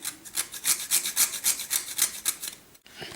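Rhythmic scraping of nutmeg against a very small hand grater, about a dozen quick rasping strokes close up, each a short bright swish, with a brief pause near the end.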